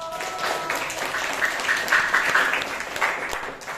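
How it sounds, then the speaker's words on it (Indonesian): A class of students claps for a classmate in a school lesson, a lively burst of applause that swells and then fades, with light voices mixed in. "kita aplaus untuk Aiko"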